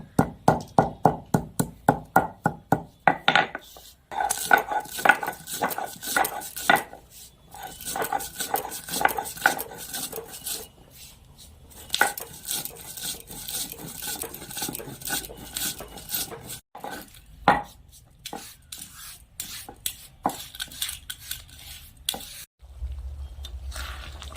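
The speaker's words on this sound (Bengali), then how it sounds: "এখন আমি ভাজা মশলাটা গুঁড়ো করে নেব" Roasted whole spices are ground into a powder for garam masala, starting as a quick run of short rhythmic bursts, then turning into longer rattling grinding broken by brief pauses, close and fairly loud.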